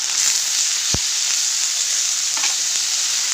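Vegetables, bitter gourd and potatoes frying with garlic in a pan, a loud continuous hiss and sizzle with one low knock and a few faint scrapes, close, no speech.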